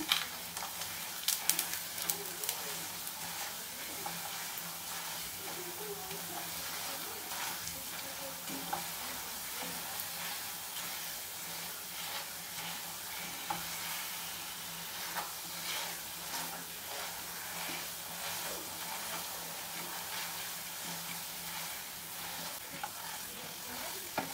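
Mango burfi halwa is stirred in ghee in a pan, a continuous soft sizzle and hiss with scraping spoon strokes, close and steady throughout.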